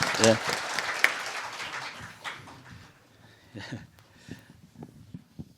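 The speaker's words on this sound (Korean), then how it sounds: "좀 큰 박수로 환영해 주시기 바랍니다." Audience at a Korean panel discussion on the March 1st Movement applauds to welcome a speaker: a short burst of clapping that fades within a couple of seconds, followed by someone speaking.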